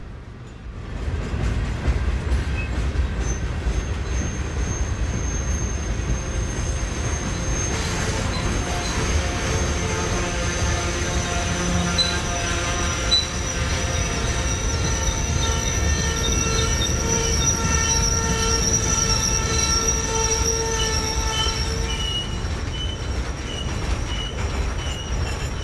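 CSX freight train slowing on the old B&O line at Green Spring, rail cars rumbling steadily with prolonged metallic wheel squeal and brake screech rising throughout, close and continuous, no talking.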